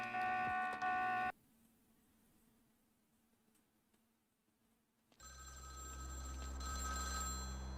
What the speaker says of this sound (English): That's a very important phone call from a very lovely guy.